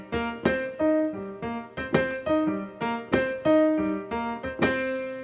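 Piano montuno in the hands-unison style, both hands doubling the same syncopated chord pattern; a steady, rhythmic run of bright percussive chord stabs repeating over about five seconds, close and clear with no talking.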